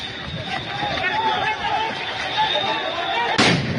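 Sound grenades explode one after another at a street protest in Dhanmondi, Dhaka, a sharp loud blast near the end standing out over a constant roar of crowd noise and shouting.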